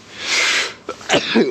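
A single close, loud sneeze with a breathy hissing buildup, followed by a short voiced burst.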